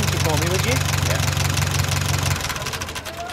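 A 1947 Ferguson TEA20 tractor engine idles with a steady, close, knocking chug, then is switched off partway through and winds down to quieter rumbling.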